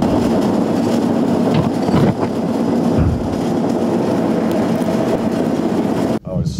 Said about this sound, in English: This isn't the fastest train in the world.